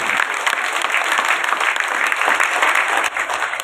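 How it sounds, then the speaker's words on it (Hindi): A crowd at a political party election office inauguration in India claps with hands raised, steady dense applause at close range that thins briefly near the end. "दोनों हाथ ऊपर उठाकर तालियां बजाकर अपनी समय की सम्मान करें"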